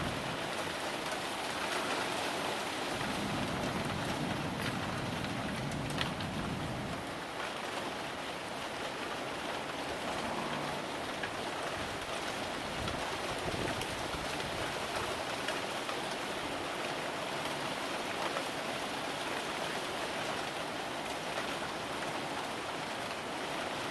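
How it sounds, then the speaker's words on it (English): Light rain falling steadily outdoors, a broad continuous hiss of drops on surfaces lasting throughout, with a brief lower rumble early on and no voices. "So it has been raining lightly,"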